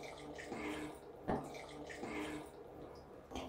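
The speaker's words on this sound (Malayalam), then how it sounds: "1/2 kilo മട്ടന് വേണ്ടിയിട്ട് നമ്മൾ 200 ml വെള്ളമാണ് ഒഴിക്കേണ്ടത്" Water poured into half a kilo of mutton in a pressure cooker, a steady running pour with a brief splash midway, close and moderately loud, alone.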